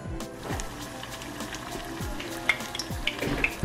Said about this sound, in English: they're all wrapped and now the frying begins